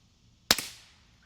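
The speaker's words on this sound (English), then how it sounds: "I have not shot 22 through this yet, so I'm excited to see if it's even quieter than a normal 22 suppressor." A single suppressed .22 gunshot through a Liberty Mystic X suppressor, a sharp quiet crack with a short echoing tail, outdoors in otherwise near silence.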